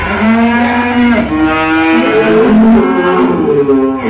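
A Limousin cross bull, a young male around four to five months old, moos loudly and continuously at close range, one long drawn-out bellowing call with shifting pitch and no talk.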